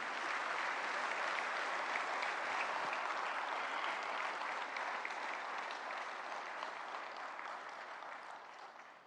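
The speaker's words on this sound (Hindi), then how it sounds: "तालियों की गड़गड़ाहट रुकनी नहीं चाहिए।" Sustained applause from a large audience welcoming Prime Minister Narendra Modi at an official event in India, dense continuous clapping at even volume that gradually fades toward the end.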